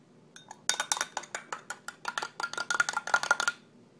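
A spoon stirs water and dish soap in a cup, producing a rapid run of bright clinks against the sides that speeds up and then stops abruptly, close and alone.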